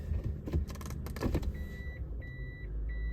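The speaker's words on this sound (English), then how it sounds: "put the car in reverse while we're on the ground and before it's fully warmed up to see, do we still get a crazy thunk?" A Lexus LS400 with new motor mounts, not yet fully warmed up, is shifted into reverse, giving a few mechanical clunks and rattles, followed by a quiet idle with intermittent electronic chimes.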